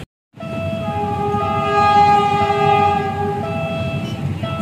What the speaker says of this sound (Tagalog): So ayan po, may parating na lumang train